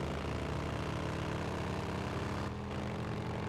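Helicopters in the video game Days Gone give a steady, loud rotor and engine drone that continues without pause, heard alone with no voices.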